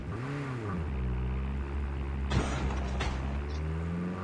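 An engine approaching in Call of Duty battle royale, a steady growling motor with rising and falling pitch that holds throughout, joined midway by a sharp burst and a few mechanical clanks.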